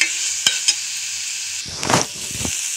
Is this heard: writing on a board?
no